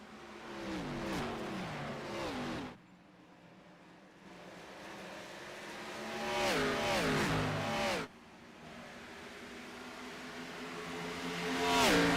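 Xfinity Series stock cars race past at Darlington, engines roaring and shifting pitch in loud surging passes with brief lulls between bursts, heading onto the back straight late in the race.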